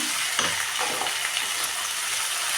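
Tomatoes sizzle in a hot pan with ginger garlic paste for tomato rice, a steady close frying hiss with a brief stirring scrape near the start and no voices.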